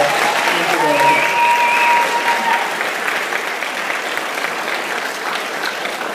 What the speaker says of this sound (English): Let's have a round of applause for Bailey Hall staff.